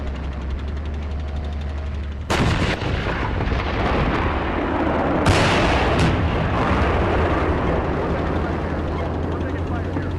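Loud military gunfire from a firefight around a tank, sharp bursts and booms over a constant heavy engine rumble, with shouted radio-style voices mixed in.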